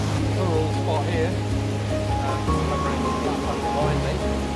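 Water rushes steadily in a waterfall on a backcountry tramping route in the Richmond Ranges, making a continuous broadband roar. Someone speaks over it, and faint birdsong is also present.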